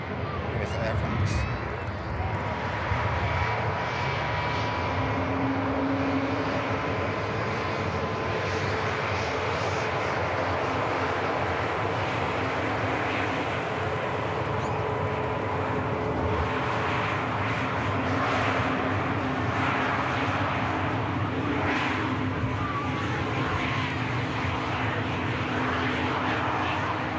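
An Air France airliner taxis at Manchester Airport, its jet engines giving a steady, fairly close roar that holds throughout, with someone talking over it.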